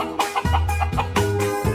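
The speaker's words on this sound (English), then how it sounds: "And who is that cackling?" A hen clucks in a quick series of short, close calls, repeated in a rapid uneven rhythm with no talking over it.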